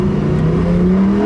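A Lamborghini Huracán Performante pulls out of the pits on a track driving experience, its engine giving a loud, close, steady drone that climbs slightly in pitch as it accelerates.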